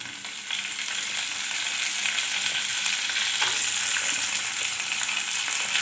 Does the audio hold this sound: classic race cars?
no